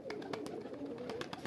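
A pigeon coos on a rooftop, low rolling coos repeating close by, mixed with quick flapping or scuffling bursts throughout.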